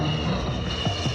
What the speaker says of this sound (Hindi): हवाई जहाज ऐसे उड़ेगा,